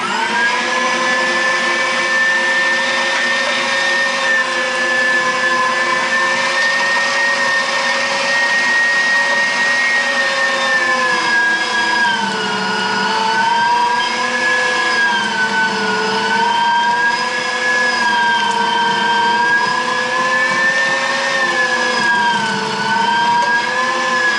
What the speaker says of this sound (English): So I'm going to turn this on. Y'all hold your ears and let's grind up some meat.